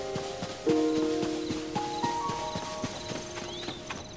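Hooves of a horse in The Legend of Zelda: Tears of the Kingdom clop in an uneven walking rhythm, close and moderately loud, with game music tones sustaining beneath and a brief rising chime near the end.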